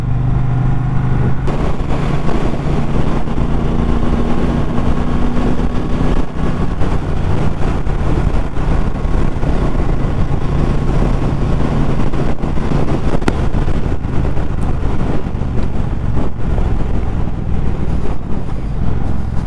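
A 2019 Triumph Bobber Black motorcycle cruises along, its engine a steady low drone mixed with rushing wind noise throughout, heard from the rider's position with no talk.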